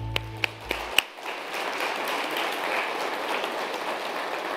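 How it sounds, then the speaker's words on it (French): Broad, steady audience applause filling a hall at an international postal strategy conference opening ceremony, a few sharp taps at the start, then dense even clapping without talk. "pour vos applaudissements"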